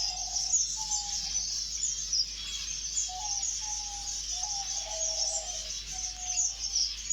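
Birds call in a large Iraqi bird reserve, with repeated short whistled notes rising over a constant high chorus of chirping and a low steady hum, no voices.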